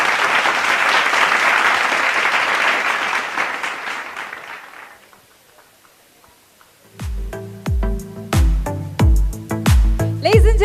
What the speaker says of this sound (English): Let's have a huge round of applause for Mr. Venkatesh Prasad.